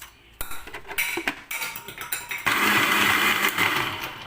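Rattling clatter, then a mixer grinder roars on loudly and runs continuously with a harsh, buzzing whine, grinding a curry paste with a little water.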